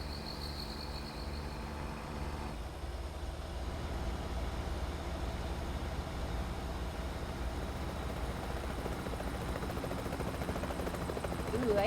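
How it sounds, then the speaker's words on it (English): Helicopter rotor drone in the American Truck Simulator video game, a steady droning rumble layered with engine and road noise throughout. "Ooh, I hear a helicopter."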